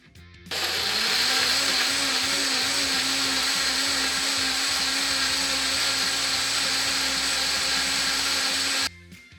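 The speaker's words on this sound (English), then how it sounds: "Season well with salt and blend into a smooth puree." A blender purees hydrated, chopped ancho chilies with garlic, onion and salt, a loud steady whir that starts abruptly, holds constant for about eight seconds, then cuts off.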